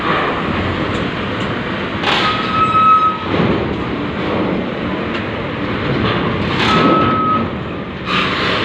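A Fuso truck at Merak port with its reversing alarm sounding two spaced, high beeps over a continuous heavy rumble of engines and vehicle traffic nearby.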